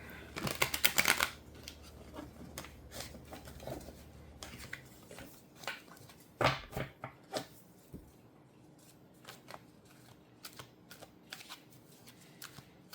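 A Santa Muerte tarot deck is shuffled close up, a quick burst of riffling cards followed by scattered soft taps and slides as the cards are handled in a quiet room.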